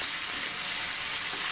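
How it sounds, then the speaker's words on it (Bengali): A fish head fries for moong dal in a hot pan with a continuous, bright, hissing sizzle that stays even and close for a brief moment, with no voices. "দিয়ে আমি ডালটা ঢেলে দেবো"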